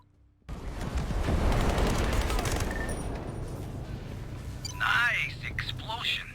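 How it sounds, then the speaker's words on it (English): A loud explosion in the video game Ghost Recon Breakpoint erupts suddenly and rumbles on with crackling debris, then a voice speaks over the fading blast. "Nice explosion."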